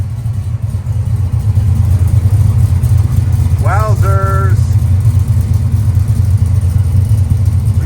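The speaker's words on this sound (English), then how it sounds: "461 cubic inch V8 engine." Restored 1970 Chevy C10 step side hot rod with a 461 cubic inch V8, two-barrel carburetor and roller rockers, idling with a loud steady low rumble; a voice briefly exclaims midway.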